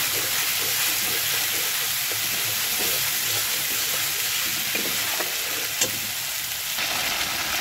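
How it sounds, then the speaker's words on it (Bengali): Steady, loud sizzling of spices with Kashmiri chili frying in oil throughout, with occasional scrapes and clinks of a spoon stirring in the pan. "মশলাটাকে ভালো করে ভেজে নেব"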